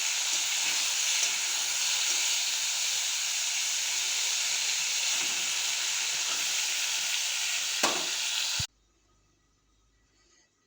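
Jute leaves frying in a pan with onion and garlic, a loud continuous hissing sizzle that holds steady and then stops abruptly, leaving near quiet.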